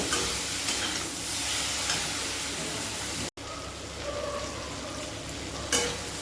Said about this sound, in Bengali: এখন আমি অল্প একটু ভাজা ভাজা করে নেব কচুর লতি সব।